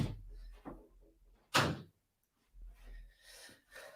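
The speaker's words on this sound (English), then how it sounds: "let me shut the door real quick" A door is shut indoors, giving one sharp thud in the middle, with faint rustling and movement sounds before and after it.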